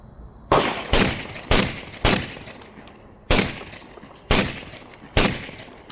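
Beretta 1301 tactical mod2 and A300 shotguns fired at a range: seven sharp, loud blasts in uneven pairs and singles, each trailing off in a short echo.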